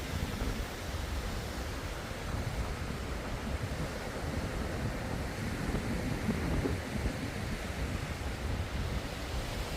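Strong sea wind blows across Tondaligan beach at Bonuan, Dagupan City, a constant broadband roar mixed with surf that continues without a break, loud and close against the microphone, with no voices.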